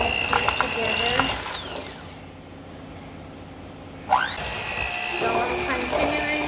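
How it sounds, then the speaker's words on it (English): An electric kitchen mixer creams butter and sugar for banana bread, its motor whirring and whining, cutting out into a short quiet gap, then spinning back up with a rising pitch. "So I'm going to use a mixer to just mix this together."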